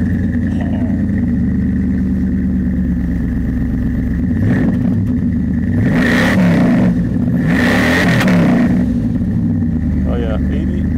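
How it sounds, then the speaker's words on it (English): A midsize pickup truck engine with dual exhaust revs up in two swelling bursts over a steady idle rumble, with people talking nearby throughout. "I'll do the vroom vroom. You want to get the sound?"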